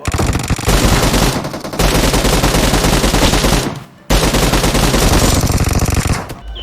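Loud, dense automatic gunfire in PUBG Mobile, rapid continuous bursts with a brief pause partway through, close and harsh.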